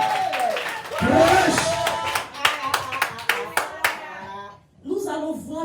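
Congregation at a church conference clapping in a loud, steady rhythm of sharp hand claps, with crowd voices and singing mixed in before a brief pause and more voices.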